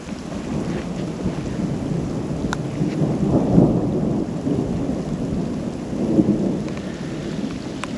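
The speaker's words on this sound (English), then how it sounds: "And this one comes with a thunderstorm," Low rolling thunder rumbles across a steady wash of rain at a remote lakeside campground in Washington, with a couple of sharper crackles and swells in between.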